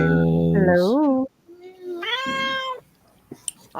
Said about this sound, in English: You'll hear lots of cats.